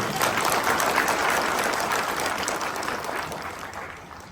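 An audience at a business presentation claps loudly on request, a dense wash of applause that stays strong and then gradually fades toward the end.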